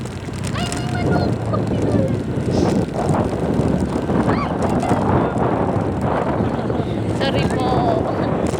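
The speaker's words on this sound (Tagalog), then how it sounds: "may manok!" A chicken on a roadside near a checkpoint gives a few squawks amid gusty wind noise, with people talking excitedly over it.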